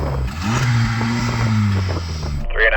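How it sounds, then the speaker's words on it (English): A turbocharged Honda Civic Type R FK8 engine revs up close in a single rising, droning rev held for about two seconds before cutting off abruptly. "Go on, Yanni, rev up the FK8."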